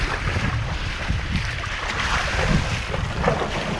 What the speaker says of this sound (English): the wind's just popping over the mountain there